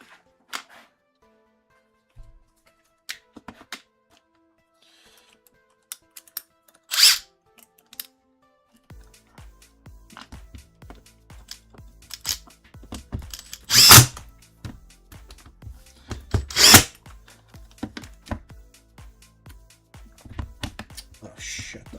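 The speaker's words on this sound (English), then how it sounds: "so I'm gonna get my impact driver" An impact driver drives small screws into the casing of a Nintendo Switch on a repair bench, giving a few short, loud whirring bursts with quiet gaps and small taps and clicks between them.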